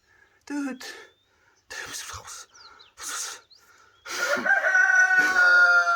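A rooster crows several times in short, loud bursts, the calls close and harsh, with the last one drawn out longer than the others.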